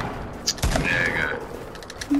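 Gunfire in the Fortnite battle royale game: a sharp shot burst near the start followed by a few scattered, fainter reports, with a brief voice and faint mechanical clicks in the mix.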